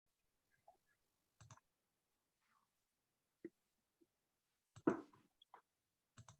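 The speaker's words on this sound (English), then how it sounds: "through all of those mouse clicks" Scattered computer mouse clicks at the start of an online presentation, sparse short taps in small clusters with long quiet gaps between them, fairly faint and close by.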